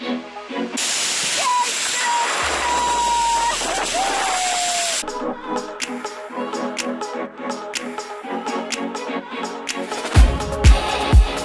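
Steady roaring rush of waterfalls at Huasteca Potosina heard while crossing above them on a zipline, loud broadband spray noise with wind buffeting, a whistling tone and clattering cable and pulley sounds.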